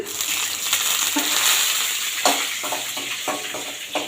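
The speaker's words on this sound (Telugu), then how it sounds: "నెక్స్ట్ ఎండుమిర్చి వేసుకుందాం" Dried red chillies sizzle steadily in hot oil in a pan, a continuous bright crackle with a few soft stirring scrapes and clicks near the end, close up with no voices.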